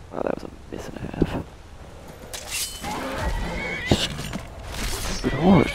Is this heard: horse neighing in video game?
yes